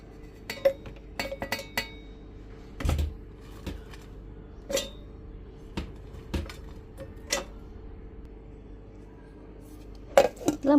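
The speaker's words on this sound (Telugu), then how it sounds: "ఇప్పుడు కొబ్బరిని మనం మిక్సీకి వేసుకుందాము." Fresh coconut pieces drop into a mixer jar, making sparse, sharp clinks and knocks scattered across a quiet kitchen, with a couple of louder hits near the end.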